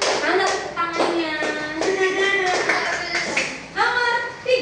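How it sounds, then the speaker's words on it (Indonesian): A classroom group claps in rhythmic bursts while students' voices chant along, lively and close in a room. "Tepuk tangan untuk kelompok 3. Mana tepuk tangannya?"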